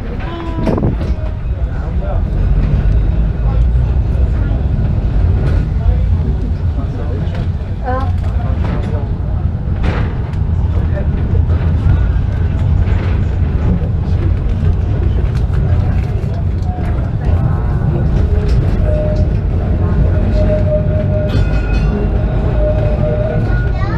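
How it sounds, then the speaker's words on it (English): A steady low rumble of a moving tram at the Wirral Transport Museum fills the clip, with rattles and wind noise throughout and voices talking over it. "time to ride this tram."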